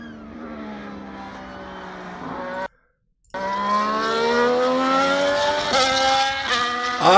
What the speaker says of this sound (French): vous entendez un genre de bruit de superchargeur